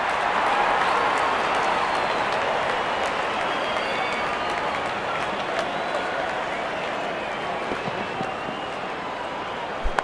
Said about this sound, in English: Wonderful 50 and the crowd applauds.